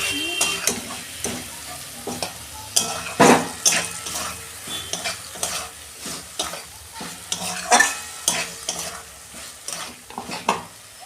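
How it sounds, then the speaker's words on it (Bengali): Slit green chillies tossed into hot oil for a bottle gourd and prawn dish, crackling and spitting in sharp bursts with utensil scrapes and clinks, close and uneven, rising and falling in irregular pulses. "এই যে 3টে চেরা কাঁচা লঙ্কা দিচ্ছি।"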